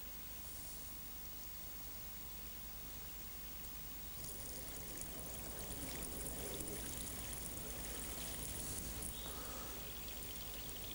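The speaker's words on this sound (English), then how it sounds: "What we do now is pour the water through this and collect at the other end." Water poured through an improvised sock filter packed with charcoal, sand, moss and grass, giving a steady close hiss of trickling and splashing that grows slightly louder partway through and continues alone.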